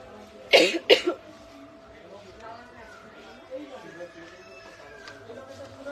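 Two harsh coughs burst out close by, followed by quieter murmuring voices in the background.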